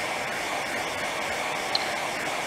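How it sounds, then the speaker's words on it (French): Two identical hair dryers run side by side, giving a steady, loud, broadband airy whoosh that holds constant throughout with no talk. "imaginez qu'on allume donc un deuxième sèche-cheveux identique à côté du premier, et qu'on écoute le son produit par les deux sèche-cheveux"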